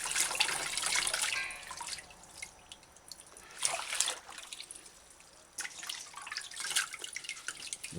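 Washed aralia drains in a sink, giving broadband watery dripping and trickling with bursts of splashing that swell and fade, up close and with no talk.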